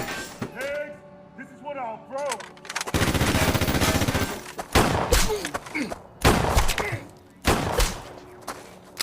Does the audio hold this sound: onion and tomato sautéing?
no